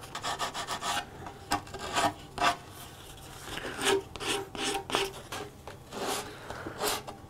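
Wooden hexagonal chess board pieces of dyed maple are rubbed and rasped to remove burrs, giving short, close, irregular scraping strokes with brief pauses between them.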